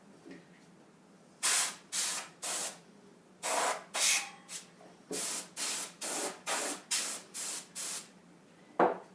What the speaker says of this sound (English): spraying off your motherboard and all your expansion cards that you have inside the computer